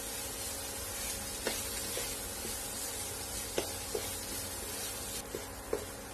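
Chaat masala and chilli sauce stuffing with chopped coriander sautéed in a pan, a steady close sizzle punctuated by a handful of sharp spoon scrapes and taps against the metal.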